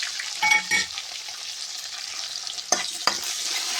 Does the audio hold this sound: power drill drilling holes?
no